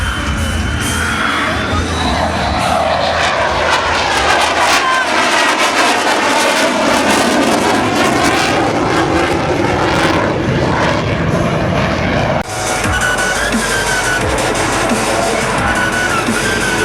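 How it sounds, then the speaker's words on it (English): F-22 Raptor stealth fighter jet at the 2017 Joint Base Andrews airshow, banking in and passing close with a loud, sustained broadband engine roar that swells and shifts, with a faint crowd murmur beneath. "Ready your cameras as Raptor banks in from the left and cycles his weapons bay doors."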